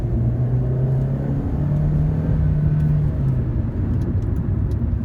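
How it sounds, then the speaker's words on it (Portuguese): A Hyundai Elantra engine pulls steadily under acceleration, a loud, close low drone with a rising tonal whine that climbs and then settles, over a constant rumble of road and tyre noise. "O carro tem uma aceleração fantástica."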